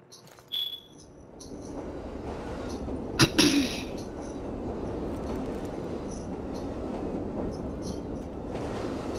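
A passing train in a video game, a steady rumbling roll with a sharp clank partway through, moderately loud, no talking.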